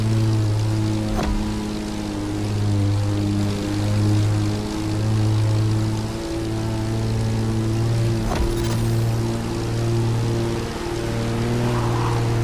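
A propeller plane in the racing game The Crew Motorfest holds a steady, loud droning engine note with slow rising and falling pitch throughout, a few sharp clicks cutting in.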